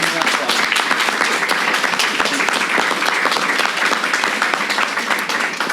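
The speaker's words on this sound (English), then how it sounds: "give us a round of applause?" A live audience in Nashville breaks into a round of applause, a close, dense wash of many hands clapping at a steady level for several seconds.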